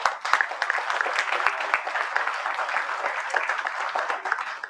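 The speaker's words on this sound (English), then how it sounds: "Can we have a big round of applause here?" A seminar audience breaks into a big round of applause, with crisp, moderately loud clapping that holds steadily throughout with small ripples of individual claps.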